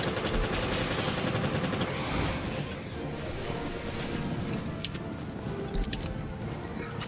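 Sustained automatic machine gun fire in Resident Evil: Revelations, a dense continuous rattle under loud game ambience that eases off slightly midway, with scattered sharper bursts later.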